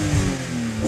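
A BMW E86 Z4 M Coupé with a 343 PS naturally aspirated engine and Eventuri intake revs while standing still, a close, loud mechanical roar that stays steady with a brief swell early on.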